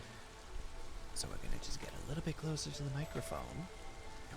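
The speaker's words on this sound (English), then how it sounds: "the sound of rain is actually really enjoyable" Soft rain ambience from a video game patters steadily in the background while someone speaks quietly over it throughout.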